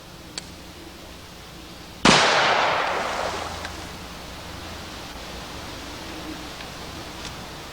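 A single loud gunshot from a .460 Rowland handgun fired outdoors, a sharp crack followed by a long, rolling echo that fades over several seconds, with no talking.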